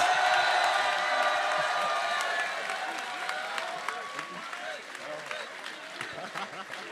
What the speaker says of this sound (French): applaudissez Ilyes, s'il vous plaît. Un max de bruit pour Ilyes.